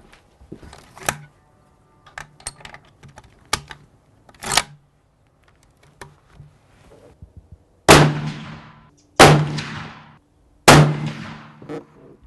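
Three loud, sharp rifle shots firing 180 grain Hornady Interlock ammunition crack outdoors at a steady interval of about a second and a half, each trailing off in a short echo, preceded by quieter clicks and handling noises.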